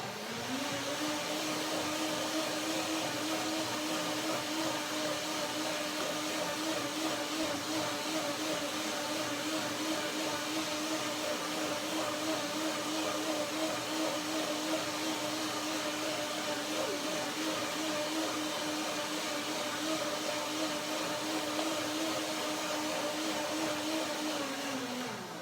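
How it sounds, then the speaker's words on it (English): A blender runs steadily for a second pass through cashew banana milk, a loud continuous motor whir with a rising start and winding down at the end, with no voices over it. "I will just blend it a second time"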